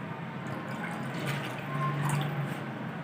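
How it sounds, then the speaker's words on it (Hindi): Milk poured into a bowl for a sugar donut dough, a steady soft liquid pour with a faint trickling, close and alone without talk. "बाउल में डालेंगे 1 कप दूध"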